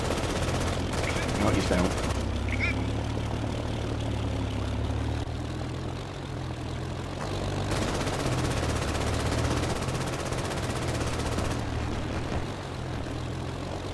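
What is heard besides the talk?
machine gun firing in a video game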